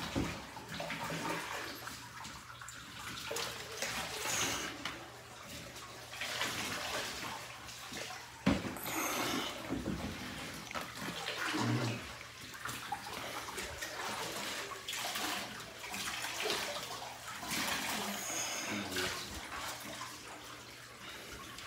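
Water running from a tap during a hot bath for a dog at home, a continuous splashing flow with shifting intensity and an occasional knock, moderately close, no talk over it.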